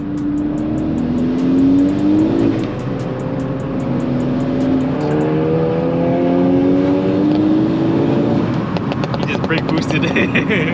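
Inside a moving Volkswagen MK6 GTI, the engine hums loud and close, its tone sweeping upward under acceleration and settling between gear changes over continuous road rumble.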